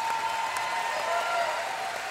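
An audience applauds steadily after a brass wind orchestra concert in a hall, a dense, even clatter of clapping hands heard from within the crowd.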